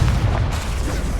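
A Confringo explosion spell in Hogwarts Legacy detonates with a loud, deep boom that rumbles briefly and fades, close and alone.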